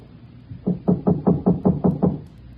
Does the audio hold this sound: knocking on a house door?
yes